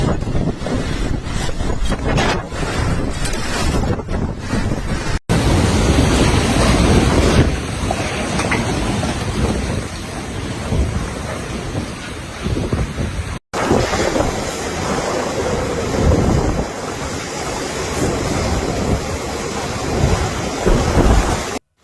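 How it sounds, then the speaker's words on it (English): Typhoon Krathon in Taiwan drives torrential rain and heavy wind in a loud, continuous roar, with wind buffeting the microphone throughout and a couple of brief cuts breaking the steady downpour. "bringing torrential rain and heavy winds that have caused landslide and floods"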